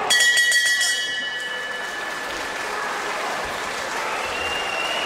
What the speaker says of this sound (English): Tyson Fury has given his home crowd something to cheer about